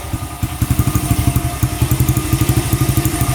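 A dirt bike engine idles steadily nearby, chugging in a fast, even low rhythm with a slight mechanical clatter.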